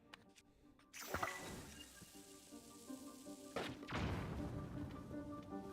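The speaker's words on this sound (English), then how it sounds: "I was hoping that the explosion would knock it closer." In-game explosion from Zelda: Tears of the Kingdom, a sudden heavy thud-burst around the one-second mark followed by a second booming surge, with rumbling game ambience and a steady music-like hum underneath.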